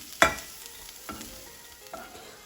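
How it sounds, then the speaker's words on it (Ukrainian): Grated carrot sizzles gently in a pan, with a sharp clack of a utensil at the start and a couple of softer stirring scrapes after. "натріть одну морквинку і підсмажте до золотавого відтінку"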